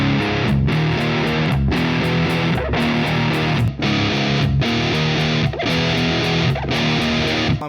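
A heavy distorted electric guitar tone from a Bias FX 2 amp preset, played as loud sustained chugging chords in repeated phrases with brief gaps between them.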